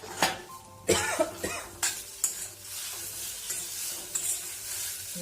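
Boiled potatoes are stirred in a frying pan, giving a series of spatula scrapes and clinks over a soft sizzle, close and fairly quiet, with no talking.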